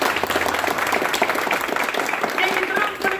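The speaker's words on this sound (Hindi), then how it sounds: "इनके लिए थोड़ा एक बार ताली बजा दीजिए।" An audience claps in a brief burst of applause, dense and fairly loud, with voices mixed in.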